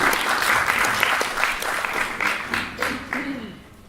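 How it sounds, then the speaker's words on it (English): An audience at a talk on a digital transformation strategic plan claps for a speaker in a full, steady round that thins and fades out toward the end, with a voice briefly heard as it dies down. "Round of applause, please."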